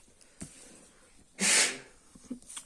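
A single sharp sneeze, close and fairly loud, after a quiet stretch with faint breathy noises around it.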